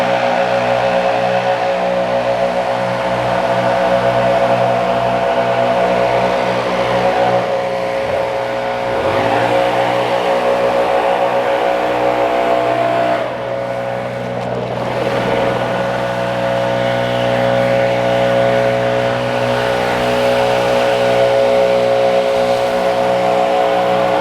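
Stihl BR800 and BR700 backpack blowers run steadily outdoors while piling fall leaves, a loud continuous engine drone with airflow rush that swells slightly and never drops out, and no voices.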